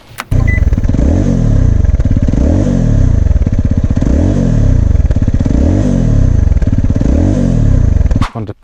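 A Zontes 310 Adventure motorcycle engine runs loud and steady throughout while riding, with a rhythmic, pulsing drone and no talk over it.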